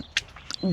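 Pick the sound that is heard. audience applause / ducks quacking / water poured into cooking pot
ducks quacking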